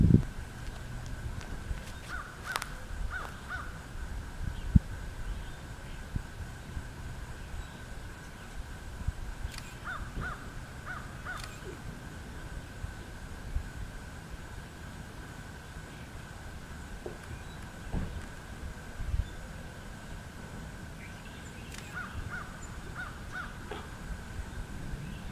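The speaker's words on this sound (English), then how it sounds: "There are quite a few birds." Crows caw from park trees, scattered harsh calls near and far spread over a steady outdoor background, with occasional soft footsteps and no talking.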